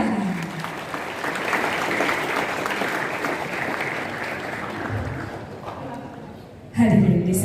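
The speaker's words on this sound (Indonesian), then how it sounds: "Beri tepuk tangan yang meriah." A hall audience at a Pancasila ideology event in Aceh Tamiang claps in a lively sustained round that fades toward the end, before a voice cuts in abruptly.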